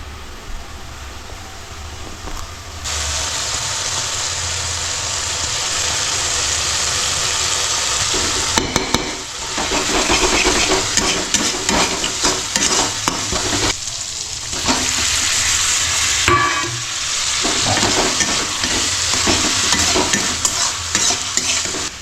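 Chicken coated in Kashmiri chili powder fries loudly in a pan while it is stirred continuously, giving a dense, close sizzle with scraping under it that runs unbroken for over twenty seconds.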